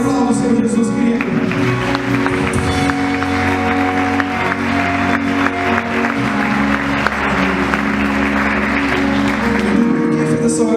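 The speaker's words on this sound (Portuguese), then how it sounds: "Aplauda o Senhor Jesus, querido." Church congregation at a family worship service applauds Jesus, a continuous mass of clapping blended with sustained organ or keyboard chords and some voices, loud and steady.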